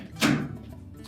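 A Whirlpool dryer door being closed during a shroud seal repair, a single short thunk close by, fading quickly into quiet room tone.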